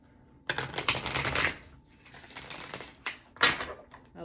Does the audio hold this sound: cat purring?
no